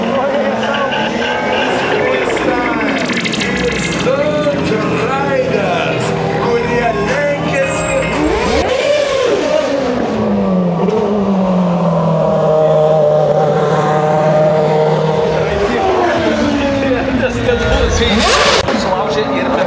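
A Honda car engine at a sea festival in Klaipėda, heard as a continuous loud roar with rising and falling revs through the whole stretch, close by, with a voice talking over it and crowd noise beneath.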